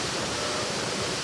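A waterfall in Eldama Ravine, Baringo County, gives a steady, dense rushing roar heard from fairly close, loud and unbroken for the whole moment.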